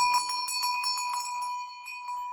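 A metal cowbell for livestock rings close up, shaken rapidly so it clangs in quick repeated strikes over a lingering metallic tone, then slows.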